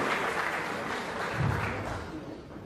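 Applause for the mayor at a national reconciliation week closing ceremony, a dense crowd's clapping spread as a steady wash with a faint low murmur beneath, fairly even in level across the moment.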